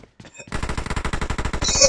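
Automatic gunfire in PUBG Mobile: a rapid, steady burst of loud, evenly spaced shots after a brief quiet start with a few faint clicks, continuing without pause to the end.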